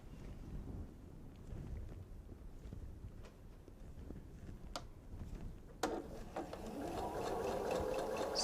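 A sewing machine stitches through the stem of a seasonal bench pillow, a soft low motor hum with faint clicks that picks up into a steadier running whir near the end.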